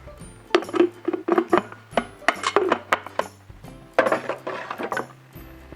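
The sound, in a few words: closing the milk container of a coffee machine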